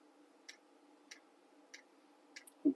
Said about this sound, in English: I've got to do something about that ticking pump.